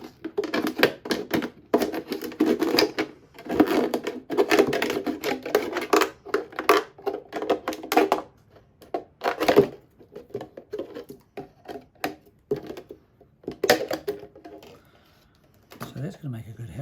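A plastic bottle is cut with scissors in irregular bursts of crinkly snipping and crackling plastic, near and fairly loud, with a voice talking at times.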